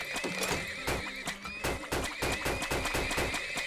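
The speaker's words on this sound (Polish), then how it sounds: "Dobra, całe stado wesoły mamy koni." Horses in the video game Turmoil give a loud, close whinny over a busy run of rhythmic hoof clip-clops.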